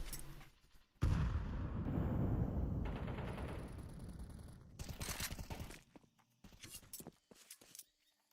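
Rapid gunfire is exchanged during a competitive esports shooter match between Fnatic and Nemiga. A dense, sustained volley of shots gives way to scattered, quieter bursts, with faint commentary in the background.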